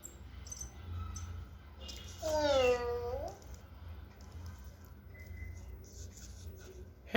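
An EMO desktop pet robot imitates a cat with one short, falling synthetic meow over a quiet background hum, followed by a faint click at the end.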